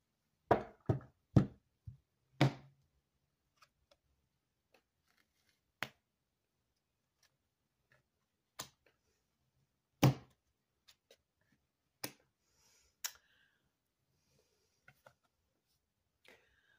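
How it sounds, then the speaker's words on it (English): Tarot cards shuffled by hand give sparse, sharp, close taps and flicks, a quick cluster at first and then isolated clicks spaced apart in near silence. "I'm just shuffling the cards a little bit."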